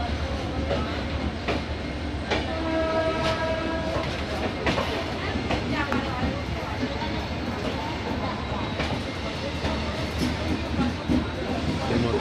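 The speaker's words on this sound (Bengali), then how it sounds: "ট্রেন হাওড়া থেকে রওনা দিচ্ছে দীঘার দিকে" Passenger train pulling out of Howrah station bound for Digha, with a steady rolling rumble and clatter of railcars throughout and horn-like tonal blasts near the start, with voices in the background.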